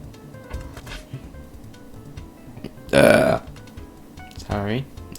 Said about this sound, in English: I just burp sometimes